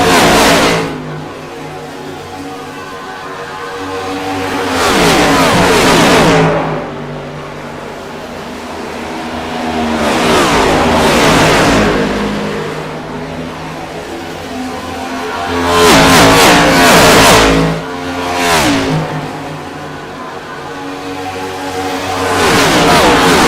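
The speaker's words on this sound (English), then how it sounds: "these cars look and sound awesome getting around this racetrack the way they are" Race cars in an AARN Cup Series event at Michigan Speedway roar past in several loud waves, each engine swelling up close then fading away, with quieter gaps between groups.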